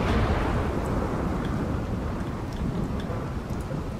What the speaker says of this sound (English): Okay, it's raining, luckily.